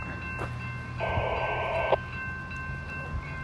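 A long freight grain train draws near on the line: a low steady rumble underneath, with a sustained horn-like tone rising over it for about a second midway, and faint clicks scattered around.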